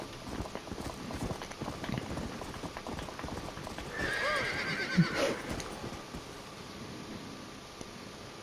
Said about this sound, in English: I just ride my horse up